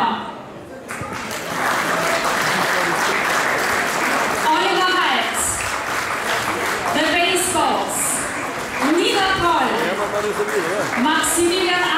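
A gala stage-show audience applauds as artists come on stage at a concert night in the Wachau, with sustained clapping under a presenter's voice and music-like tones rising over it.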